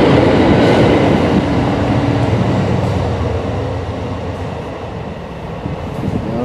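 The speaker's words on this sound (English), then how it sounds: "now I hear a train coming" A train rumbles past, a loud, continuous roar of wheels and rolling stock that eases slightly toward the end.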